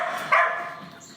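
A dog named Toby lets out one short, sharp bark, close and loud, fading quickly into background quiet.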